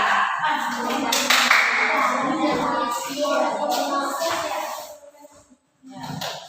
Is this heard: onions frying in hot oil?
no